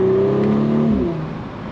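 An Audi B9.5 S4 engine revs and holds a steady note up close, then the pitch drops away as the revs fall and the exhaust settles into a low rumble.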